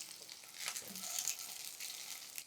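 Green chilies and a garlic clove frying in hot oil for a chutney, giving a steady close sizzle with faint crackles and a brief stir, no voices.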